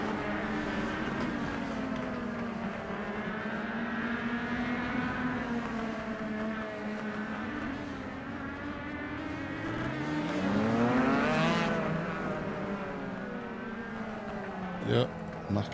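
A racing video game car engine drones steadily on a figure-eight oval speedway, its pitch wavering and climbing through shifts, with a commentator talking over it throughout.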